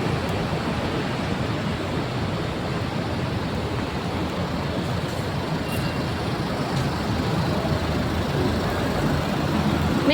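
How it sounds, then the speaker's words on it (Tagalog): Dense traffic roars along EDSA in Metro Manila, a constant broadband rumble of many cars, buses and trucks passing close by, steady and loud throughout with no talk. "Medyo maingay, guys. Sorry. Kasi maraming sasakyan."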